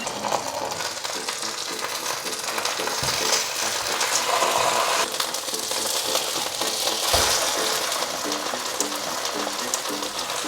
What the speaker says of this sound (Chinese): 油溫一定要高，下鍋那一刻要有這種嘶的聲音